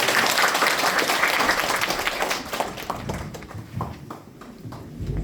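Broadband clapping from a church congregation at the close of a pastor's installation thanksgiving service, loud and dense at first, then thinning into scattered claps.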